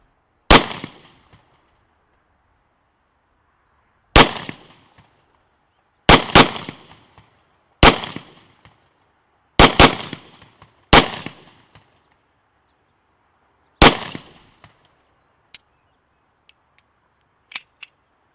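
A Rock Island Armory .22 TCM 1911 pistol fires about nine loud, sharp shots at irregular intervals, some in quick pairs, each with a short ringing decay, followed by a couple of fainter clicks near the end.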